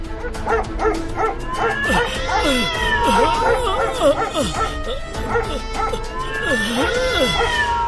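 Several cats meow and caterwaul in rising and falling cries, mixed with dogs barking and yipping, all loud and close over steady background noise for the whole stretch.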